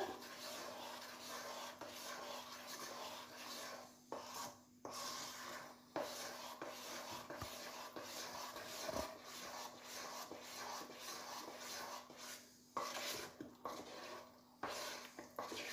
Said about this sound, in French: on mélange le beurre avec notre pâte